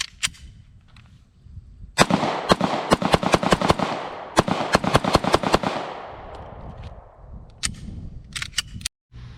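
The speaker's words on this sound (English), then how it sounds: "Fire a few rounds from the VIS-100." A FB Radom VIS-100 M1 pistol, Poland's new army sidearm, fires a rapid string of about a dozen loud, sharp shots with ringing tails, followed by a few scattered single shots after a pause.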